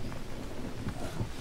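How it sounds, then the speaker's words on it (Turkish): Steady rain hisses densely in the Green Hell jungle survival game, with a low rumble of thunder rolling underneath, faint and continuous with no voices. "Bugün yağmurlu hava arkadaşlar."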